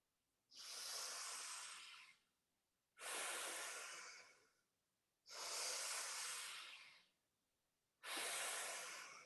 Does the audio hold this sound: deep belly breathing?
yes